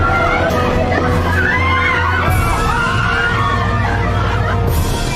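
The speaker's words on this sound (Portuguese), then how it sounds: "Nádia consegue passar pela multidão em pânico." Panicked crowd screaming and shouting inside a burning building in a dramatized fire scene, a dense, loud, continuous wall of frantic voices with occasional bangs.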